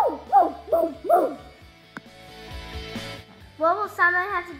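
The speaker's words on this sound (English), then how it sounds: "He barked." A dog barks in a quick series of three close yapping barks, then a pause and more barks with a whimpering edge, loud and near.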